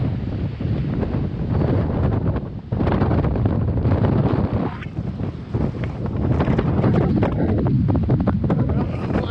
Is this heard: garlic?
no